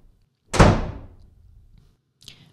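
A door swings shut with a sharp, loud slam and a decaying rattle, followed about two seconds later by a quieter click or knock, close by with no talking.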